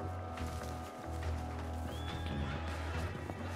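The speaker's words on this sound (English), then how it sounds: "Is that guy spooking my horse?" A horse whinnies in the video game Red Dead Redemption 2 over a low rumbling in-game background, with some thuds and faint hoof sounds, heard at a moderate distance.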